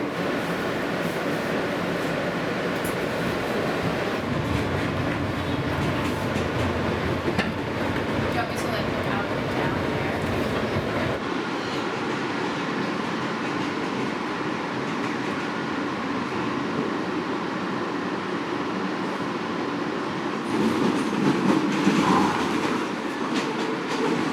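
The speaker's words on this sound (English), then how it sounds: "This is a Manhattan-bound X local train." A Manhattan-bound local subway train running on elevated tracks, a loud continuous rumble with clickety-clack of wheels and rail noise, heard from on board, shifting in tone partway through as the ride continues.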